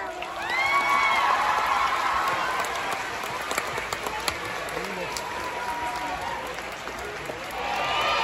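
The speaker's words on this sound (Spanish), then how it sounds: "dadle un fuerte aplauso" A live stage show audience applauds and cheers loudly, sustained clapping with whoops rising and falling across the whole stretch, close and full, with a brief swell again near the end.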